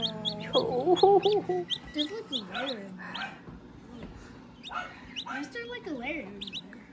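Newly hatched chicks give faint, high, short chirps inside a modern egg incubator, scattered and intermittent beneath close, excited talking from several people.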